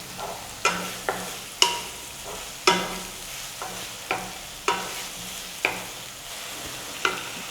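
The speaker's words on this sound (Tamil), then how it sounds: "நம்ம வெங்காயத்தை போட்டு நல்லா வதக்கிக்கலாம்." Onions sautéing in a pan for an egg masala gravy, with a steady low sizzle and a spoon scraping and stirring in regular strokes about once a second, close and fairly quiet, no voices.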